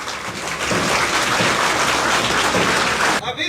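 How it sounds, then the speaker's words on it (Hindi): Dense, loud applause from a seated audience at an awards ceremony for CTET coaching results, steady clapping that fills the space for about three seconds and then cuts off abruptly. "आप लोग इन दोनों के लिए ताली बजा दें।"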